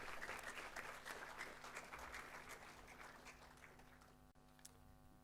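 Applause from an audience at a Year 11 school awards ceremony, steady clapping at moderate level for about four seconds before thinning out into a few scattered claps and a faint hum.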